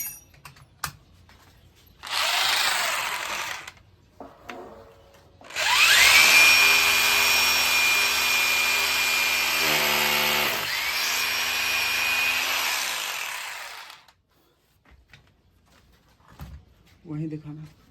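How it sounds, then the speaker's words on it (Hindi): A power drill bores into a wall for mounting an LG 43-inch LED TV, whining loudly in two bursts, a short one and then a long sustained run whose pitch shifts midway, with brief talk in between. "एक ड्रिल और मारेंगे।"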